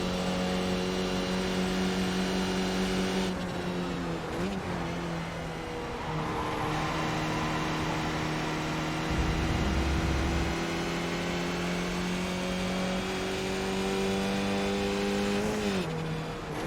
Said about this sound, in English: Get that V10 purring.